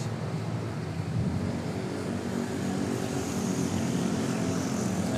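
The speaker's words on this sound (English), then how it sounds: "the departure of Qatari 933" A Qatar Airways airliner taking off at Manila Airport, a steady loud roar of jet engines at full thrust, continuous and close with no talk.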